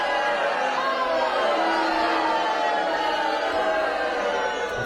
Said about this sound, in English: It's booing noises. It's booing